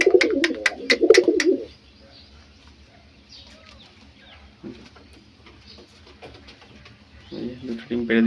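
Fancy pigeons coo in a loft, a few low throaty calls rising now and then beneath a person talking, with a burst of sharp chirps and bird activity at the start.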